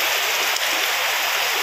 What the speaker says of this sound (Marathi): खूप पाऊस पडतोय आता